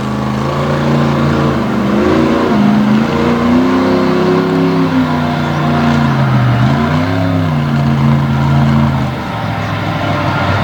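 A barely tamed Ford truck with a torsion bar setup revs hard through a competition run, its loud engine note rising and falling in steady surges for about ten seconds, alone without talk.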